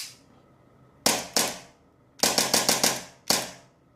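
Action Army AAP01 airsoft pistol firing seven sharp, close shots, two single pops, then a quick burst of four, then one more, with no talking.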